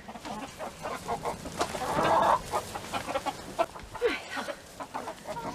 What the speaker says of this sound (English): Hello, Mr. Rooster.